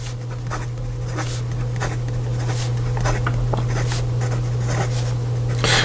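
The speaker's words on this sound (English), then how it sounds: "in regard to some fast writing" A Constellations88 Plasma fountain pen scratches quickly across paper in a steady, continuous run of close, dry strokes, with a constant low hum in the background and no talking.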